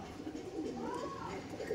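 A Chatiyal Sudri pigeon coos softly among other pigeons at a bird market, one low rolling call under a steady background hum and murmur.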